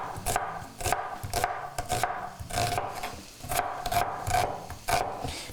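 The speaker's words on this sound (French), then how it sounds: "je vais hacher un oignon comme ça" A kitchen knife chops an onion on a cutting board in an evenly spaced run of about ten crisp strokes. The chopping is close and clear, with faint rubbing between the cuts.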